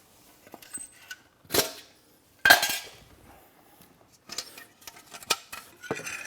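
Macaroni pasta mixed in a cast iron pot on a wood-fired pot belly stove: a handful of separate metallic clanks and scrapes from a utensil against iron, with quiet gaps between them.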